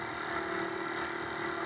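A small generator mounted on an e-bike to charge its battery runs at a steady, constant hum, with an even drone and no changes in pitch.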